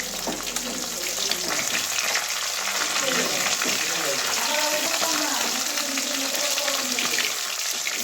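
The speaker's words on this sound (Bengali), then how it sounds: "মাছগুলো আমার ভাজা হয়ে গেছে" Pabda fish frying in hot oil in a pan, a loud, dense, continuous sizzle close by, with a voice talking faintly underneath.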